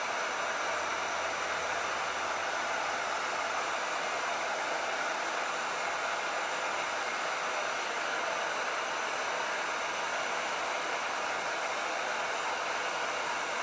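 A heat tool blows hot air over torch paste on a wooden board, producing a steady, loud, unbroken whooshing roar that holds at the same level throughout, with no talking.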